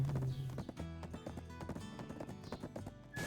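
Horse hooves clip-clopping in a video game, a quick, steady rhythm of light hoof taps that carries on throughout, with no talk over it.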